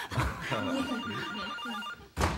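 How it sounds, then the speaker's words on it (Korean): An old-style telephone bell rings in a Korean drama scene, a sustained trilling ring with a short pause before it starts again, loud and close, with no talk over it. "전화. 아, 전화."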